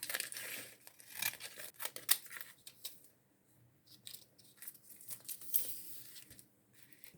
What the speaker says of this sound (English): Now I need to cut this in roughly half.